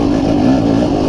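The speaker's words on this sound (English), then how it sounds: "My bike has never made this much power." A motorcycle engine revs at low RPM, a loud, close, steady throbbing growl held briefly without a pause.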